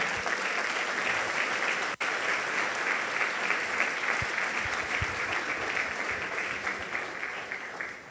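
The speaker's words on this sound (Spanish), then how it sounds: "Dele un gran aplauso a nuestro Rey" A church congregation claps steadily for a long stretch during a Sunday service, a dense wash of hands that carries on evenly and thins slightly near the end.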